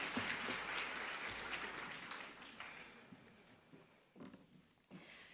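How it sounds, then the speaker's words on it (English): Graduation ceremony audience applause in Windhoek, a faint distant patter of many hands clapping that thins out and fades over several seconds. "Let's give her a round of applause."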